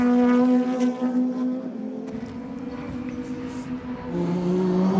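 A DTM race car at the Lausitzring drones loudly as it slows into the pit lane, its engine tone holding steady then dropping in pitch, with other engine noise in the background.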